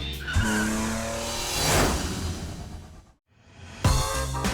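A Mitsubishi L200 pickup skids through a car show stunt, its engine revving and tires squealing in long smeared screeches, a brief lull, then the engine snarling back loudly.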